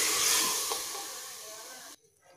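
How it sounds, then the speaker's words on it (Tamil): Mutton with ground spices frying in oil, a close steady hiss and sizzle that fades slightly before cutting off abruptly near the end. "அதையும் இது கூடயே சேர்த்து எண்ணெயிலேயே 2 நிமிஷம் நல்லா வறுத்து விட்டுக்கலாங்க"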